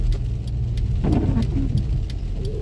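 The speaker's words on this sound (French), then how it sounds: "Il y a la pluie." Steady rain drumming on a car body, with a low engine hum beneath a continuous broadband wash; no talking.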